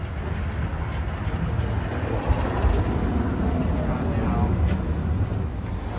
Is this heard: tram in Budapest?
yes